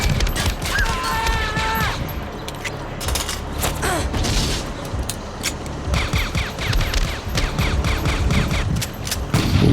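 Loud, rapid bursts of gunfire in the film Terminator crackle in uneven volleys, mixed with metallic mechanical clatter and clanks.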